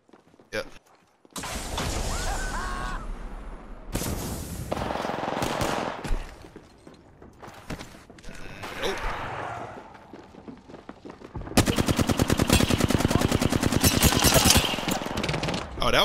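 Rapid automatic gunfire and bursts of shots from a shooter video game, loud and dense, with a long sustained volley near the end; game voices and mechanical sounds come and go between bursts.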